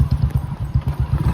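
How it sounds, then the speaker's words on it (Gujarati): A ridden mare's hooves clip-clop in a quick, even rhythm of close, muffled thumps, with a faint engine-like drone underneath. "ઘોડી માથે, રોજી જો આગળ હાલી જાય છે"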